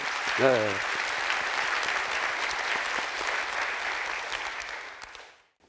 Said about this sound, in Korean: 이 대목에서 박수 한번 해주세요